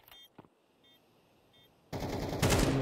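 Rapid automatic gunfire bursts out loud in a Counter-Strike match on the Anubis map, shots fired through smoke. A few faint clicks come first, then a dense, sustained volley.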